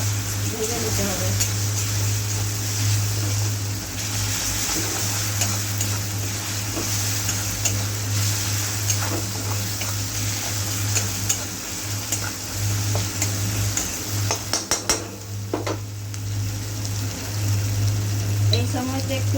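Garlic paste frying in hot oil in a pan, a steady close sizzle running throughout with occasional stirring clinks and a low hum underneath.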